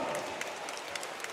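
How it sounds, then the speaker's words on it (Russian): Applause from the crowd for both fighters after a five-round women's MMA title bout at OPEN FC 30, a faint, steady wash of clapping with a few sharper claps standing out. "аплодисменты обеим претенденткам"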